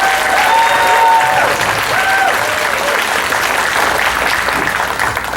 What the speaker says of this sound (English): We can give our board of directors a nice round of applause for this.